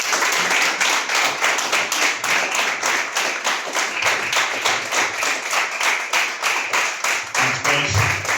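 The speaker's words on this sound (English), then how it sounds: "please give every parent and supporter in here a round of applause" Clapping from parents and supporters, many of them on their feet, at a youth football club's player of the year awards night, a dense steady patter of many hands held for the whole stretch, close and loud.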